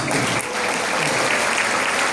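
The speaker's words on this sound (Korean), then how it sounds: "박수를 한 번 보내주시죠" A business fellowship gathering bursts into sustained applause, dense crowd clapping held at a steady, fairly loud level throughout the short stretch, with no speech over it.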